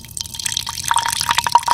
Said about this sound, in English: So we click the little water thing in the refrigerator, and now we wait.